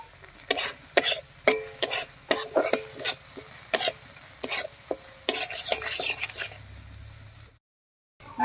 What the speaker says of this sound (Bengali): মশলাগুলো দিয়ে একটু নাড়িয়ে নিয়েছি